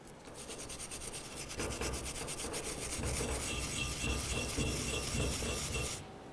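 Steady scrubbing and rubbing on the ball joint shield surface of a 2010-2013 Ford Transit Connect, continuous close strokes for about six seconds before stopping abruptly, with no talk.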